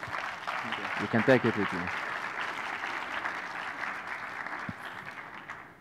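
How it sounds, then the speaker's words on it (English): An audience applauds Miguel at a business forum, a broad wash of clapping that swells and then slowly thins, with someone speaking over it early on. "So applause for Miguel."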